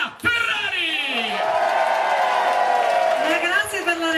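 Large outdoor crowd in the town square of Dolo, Veneto, cheering and whooping for a singer at a live pop concert, a loud sustained roar of voices with a sung or shouted vocal line riding over it throughout.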